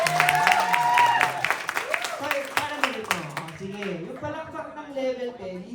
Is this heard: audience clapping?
yes